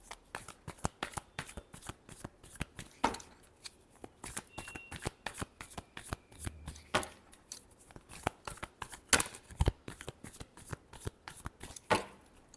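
Tarot cards are shuffled up close in quick bursts of crisp riffling and slapping clicks that continue irregularly for several seconds, with no voice heard.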